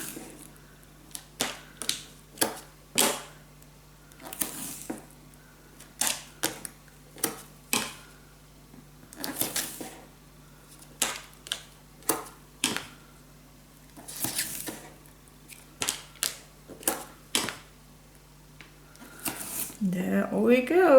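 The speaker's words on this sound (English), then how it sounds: "let me just tape it" Sticky tape pulled and pressed down while making a burgundy scrapbook mini album, heard as a series of short, sharp close-up rips and taps at irregular intervals, with brief rustling of paper near the end.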